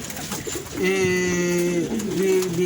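Pigeons cooing close by in a breeding loft, a steady run of low, throaty coos that swell and repeat over a soft background hiss, with no talking.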